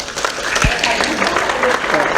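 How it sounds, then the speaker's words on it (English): Audience applause at a live medium event in Los Angeles, a steady dense patter of clapping filling the room with some voices mixed in. "All right, give them a round of applause."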